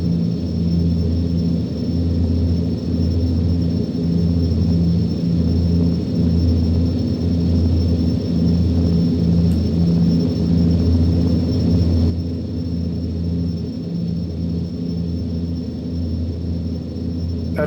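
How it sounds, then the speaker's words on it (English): A DHC-8 turboprop taking off from Aberdeen in the Prepar3D v5 flight simulator, giving a steady loud droning rumble with a constant high whine, which eases slightly toward the end. "There's another first time takeoff out of Aberdeen."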